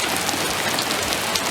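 Steady rain patters on surfaces outdoors, a dense, even hiss of drops close by with no voices.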